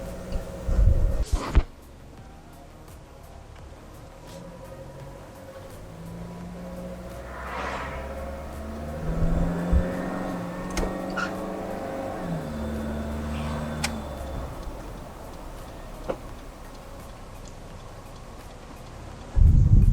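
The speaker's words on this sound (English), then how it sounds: "So we'll start off in low gear, I'll just manually shift through the gears to make sure that they're all working correctly." A 1997 Toyota HiAce Super Custom van engine drones low and steady on a post-service test drive, its pitch rising and falling as the gears are shifted manually up from low, with clunks near the start and end.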